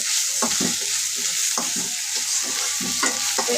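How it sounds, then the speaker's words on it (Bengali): Ginger, garlic and onion paste frying in a pan, a steady hiss of sizzling oil with rhythmic scraping stirs recurring about every second, close and clear with no talk. "আদা বাটা, রসুন বাটা, পেঁয়াজ বাটা, এটা আমি একটু ভাজবো, কাঁচা গন্ধটা দূর হওয়ার জন্য একটু ভেজে"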